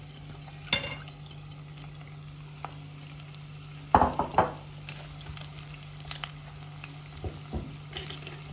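Rice being toasted in oil in a pan, a soft steady sizzle under a constant hum, with a few sharp clinks and scrapes of a utensil stirring the grains.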